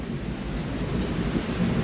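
A thunderstorm: low, continuous rumbling thunder mixed with steady rain, a dense, rolling wash with no speech.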